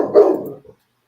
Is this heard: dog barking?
yes